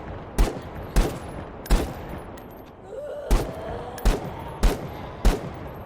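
Gunfire in the video game The Day Before: about seven loud, sharp single shots at a steady, unhurried pace over a low ambient game backdrop, with no talking.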